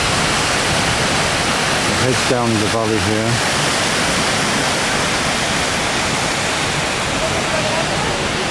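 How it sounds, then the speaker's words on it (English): A waterfall on the road toward Church Mountain in Iceland roars as a loud, steady broadband rush throughout, with someone speaking briefly over it near the middle. "It's a very nice waterfall."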